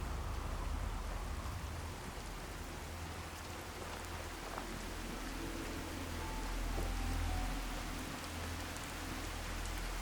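Steady rain in the Fallout 4 video game makes a constant hiss of falling drops, with a low rumble underneath. It carries evenly throughout, with no talking.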